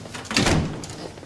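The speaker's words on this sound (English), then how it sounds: "Close the door, please" A door closing in a police station office, a single soft thud with a brief rattle, fairly close and moderately loud, with no talk over it.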